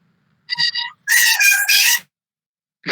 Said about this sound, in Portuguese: Opa, tá miando.